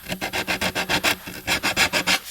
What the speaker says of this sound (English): hand sand my back edge and my front edge